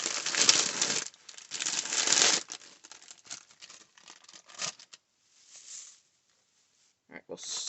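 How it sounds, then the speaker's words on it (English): Sequin packaging from a Valentine's craft project crinkles loudly up close in two long bursts, followed by scattered rustles and small crackles that fade into quiet, with a final short crinkle at the end. "sorry for the crinkling."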